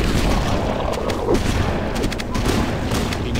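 Halo 1 gunfire rattles in bursts on the Library level, played on Legendary, as a dense, loud wash of shots with sharp cracks through the clip and no talking.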